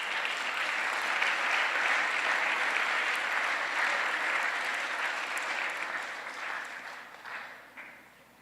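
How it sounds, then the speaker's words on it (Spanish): A church congregation applauds during a worship service, a steady wash of many hands clapping together that holds strongly, then thins and fades toward the end. "Denle un aplauso al Señor"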